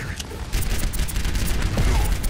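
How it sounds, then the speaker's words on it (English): Rapid burst-fire gunshots from an Overwatch competitive match, dense repeated shots layered over busy game effects and a continuous wash of noise, with a voice talking faintly underneath. "Little burst fire, hot burst fire action."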